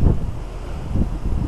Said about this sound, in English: it's just too damn windy to be painting.